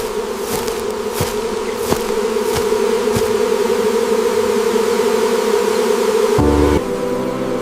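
A steady, loud drone of honey bees buzzes around hives on an isolated farm, with a few sharp taps and a closer, deeper buzz passing near the end.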